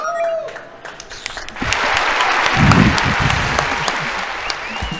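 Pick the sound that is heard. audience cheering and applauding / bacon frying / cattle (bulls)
audience cheering and applauding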